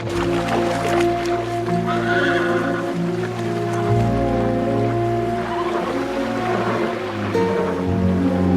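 A horse neighs and whinnies loudly and close by, the calls stretching across a steady, rushing background.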